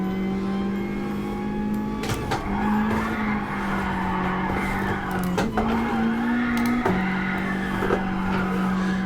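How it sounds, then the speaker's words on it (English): A car drifting slowly in a racing video game, with the engine droning steadily and tires squealing and skidding through the corner, pitch shifting with quick gear changes. "some better slow pace drift"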